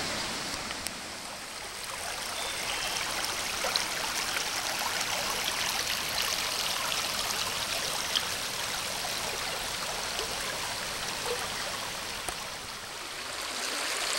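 Fall Branch rushes steadily down toward the South Fork Cumberland River in the Big South Fork woods, a continuous broad hiss of flowing water, fairly close and even, with no voices.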